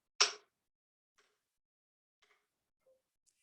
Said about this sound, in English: He is using a wooden spoon hit against a plastic pitcher.